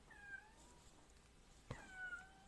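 A cat gives two distinct meows about a second and a half apart, each rising then falling, fairly faint against a quiet indoor background.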